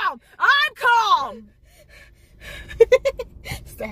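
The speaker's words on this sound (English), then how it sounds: "It's the heavy breathing at the end." A person gasps and breathes heavily in a few loud, close bursts, followed by quick panting breaths.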